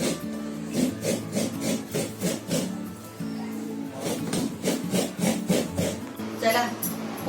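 Fresh coconut is grated by hand on a scraper, giving steady rhythmic scraping strokes, close and fairly loud, repeated in bursts with short pauses between runs; a voice murmurs faintly underneath.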